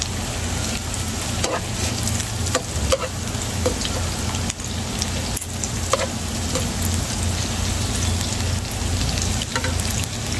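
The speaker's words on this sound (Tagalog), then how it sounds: "Ginisa ang sibuyas." Onions and garlic sautéing in a pan as the base for mung bean stew, a steady dense sizzle with scattered sharp crackles and pops, close and continuous with no talk.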